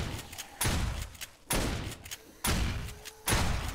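Gunfire in the zombie survival video game 7 Days to Die: four loud, close shots or short bursts at uneven intervals, each ringing briefly before the next.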